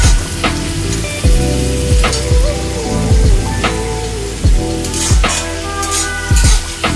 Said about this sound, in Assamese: এতিয়া মই এই পিঁয়াজখিনি ৰঙচুৱা হোৱালৈ মিডিয়াম ফ্লেমত ভাজি ল'ম।